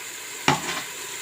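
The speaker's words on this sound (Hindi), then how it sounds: "अब इसमें गोभी ऐड कर देते हैं" Cauliflower pieces tipped into hot masala for aloo gobi, giving one sharp burst of sizzling and stirring that fades back into a steady background frying hiss.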